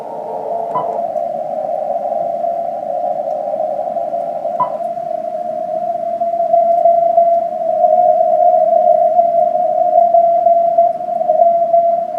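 A steady, high-pitched amateur radio code practice tone from W1AW drones on continuously over a faint bed of static, growing slightly louder partway through.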